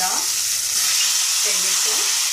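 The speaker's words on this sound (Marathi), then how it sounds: "आता आपण कांदा टाकूया." Onion hits a hot pan and fries with a bright, steady sizzle close by, while faint voices sit briefly under the hiss.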